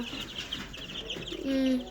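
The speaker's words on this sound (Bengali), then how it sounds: "আর এটা হলো আমাদের সেই মুরগিগুলো যেগুলো আমি দেখেছিলাম" Layer hens in a backyard flock clucking and calling at a steady, moderate level, with one louder drawn-out cackle near the end.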